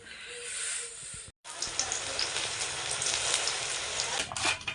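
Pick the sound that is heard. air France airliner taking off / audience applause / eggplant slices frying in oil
eggplant slices frying in oil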